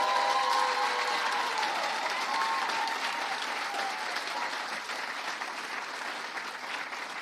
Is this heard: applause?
yes